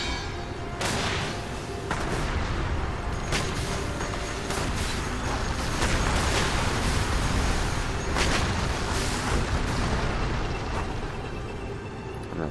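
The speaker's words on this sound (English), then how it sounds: "Let's see if we can get you to throw the right grenade." Battle noise in the strategy game Rise of Legends as a grenade goes off, with a dense constant rumble and scattered thuds and blasts, loud and continuous throughout.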